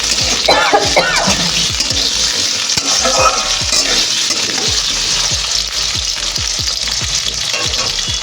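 Cut potatoes fry in hot mustard oil with a cumin and green chilli tempering, a loud, steady sizzle and hiss with repeated scraping and stirring strokes throughout, no talking.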